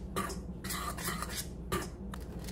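A spoon whisks baking powder and baking soda through dry flour in a bowl for vegan banana muffins, giving a few quick scraping, clinking strokes against the bowl, close and fairly quiet with no talking.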